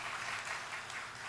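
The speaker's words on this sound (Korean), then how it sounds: "우리 박수로 환영하겠습니다." A church congregation clapping to welcome a newly registered member during a Sunday service, a soft, distant patter of applause holding steady for the whole brief moment.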